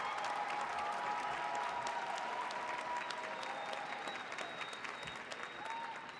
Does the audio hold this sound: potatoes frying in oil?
no